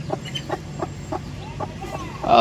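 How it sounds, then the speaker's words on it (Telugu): A brooding native hen clucks in a slow, regular series of short low calls, close by, ending with a louder burst of rustling and a squawk. "ఈ కోడి అయితే మన దగ్గర కోడి పిల్లలు బాగా విడుతుంది"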